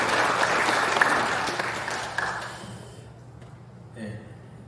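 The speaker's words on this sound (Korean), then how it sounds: "박수를 함께 해주시기 바랍니다" An audience at a military academy Christian fellowship service applauds loudly. The clapping fades away after about three seconds and leaves a quiet room with a faint murmur.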